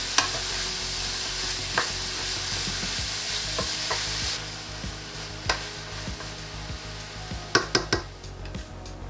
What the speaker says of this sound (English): And we're going to saute everything first.